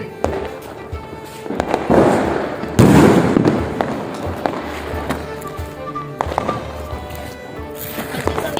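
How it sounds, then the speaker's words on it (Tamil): Aerial Diwali fireworks, set off in rainy weather in Sankarankovil, burst in a series of loud cracks and booms, some close and heavy, others sharper pops, with scattered crackles between. "வானத்துல போய் வெடிக்கிற வெடியெல்லாம் போட்டேன்"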